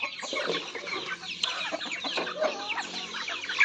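Native chickens cluck and chatter busily after being let out of their coop, a continuous close flock sound with overlapping calls.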